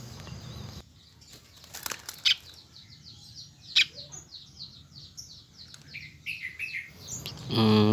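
A pied fantail gives repeated bright chirps and tweets, with brief wing flutters and scattered clicks and knocks, then a louder burst of noise at the end.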